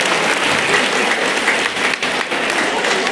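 Loud, dense applause from an audience honouring a teacher at a school science club event, a continuous close wash of clapping from start to finish.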